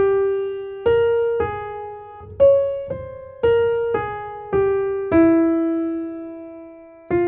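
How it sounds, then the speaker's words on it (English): Sylvie's leitmotif from the Loki score, a gnarly solo violin playing a modal melody of distinct bowed notes in a steady, deliberate rhythm, clear and close with nothing else under it. "This is Sylvie's theme"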